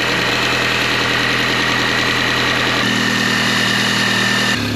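A Mini's engine running on its very first start, idling steadily and loudly up close with a constant mechanical hum and a slight shift in tone near the end.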